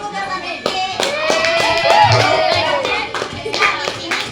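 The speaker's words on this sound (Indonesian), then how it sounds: "tepuk tangan dulu buat Rifki" Classroom group clapping for a student named Rifki during a school counselling simulation, a short burst of hand claps mixed with overlapping talk.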